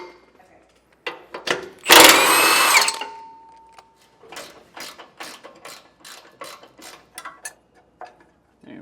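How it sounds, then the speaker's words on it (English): A drill spins out a 13 mm bolt from a frame bracket on a 2020 Thor Four Winds RV, one long loud whir followed by a run of short ratcheting clicks and taps. "I'll be able to use my drill for this vertical one"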